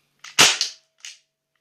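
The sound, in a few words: gas airsoft gun firing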